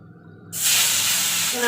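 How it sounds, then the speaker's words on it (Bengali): Fish drops into hot oil and erupts into a loud, sudden sizzling hiss after a quiet moment, then keeps frying steadily up close. "মাছ ভাজা হচ্ছে"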